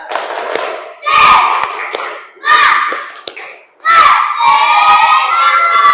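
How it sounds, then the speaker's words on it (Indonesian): A group of schoolchildren in a ball-game practical lesson shouts a spirit clap chant together in loud, rhythmic bursts separated by short gaps, the final burst stretching into sustained cheering. "kita kasih tepuk semangat dulu sama-sama"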